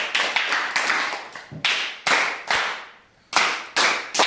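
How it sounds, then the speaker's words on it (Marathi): Children clapping in a classroom after a lesson on caring for animals and birds, several short loud bursts of applause with brief gaps between them, no voices over it. "छान, यांच्यासाठी जोरदार टाळ्या झाल्या पाहिजे."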